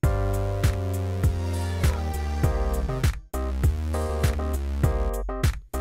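An iMaschine loop pattern repeating with a snare or clap landing on two and four over a bass line and synth tones, steady and close, cycling twice with a brief dropout between.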